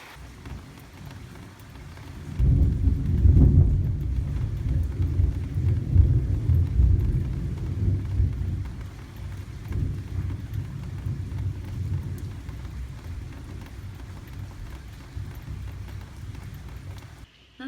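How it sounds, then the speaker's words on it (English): Heavy rain pours down during a Florida thunderstorm, with a deep rumble of thunder building and swelling, then a steady low roar of downpour continuing under the storm. "it's pouring it down and it's thundering"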